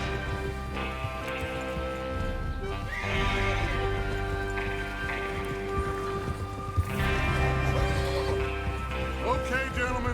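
Horses in the 1890s Western game Red Dead Redemption 2 whinny and clip-clop steadily through a continuous stretch, with a musical score and ambient sound underneath.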